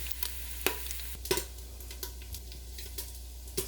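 Pre-browned Italian sausage crisping in oil in a pan, heard as a soft, low-level sizzle with a steady hum underneath and several sharp spoon or pan clicks at irregular intervals.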